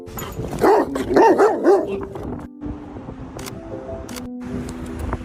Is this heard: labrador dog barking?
yes